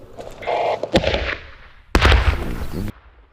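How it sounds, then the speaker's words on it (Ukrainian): Two sharp explosive blasts, the second louder and followed by a rumbling roar that fades out; a mine detonated on a former battlefield in Ukraine. "Увага, вибух."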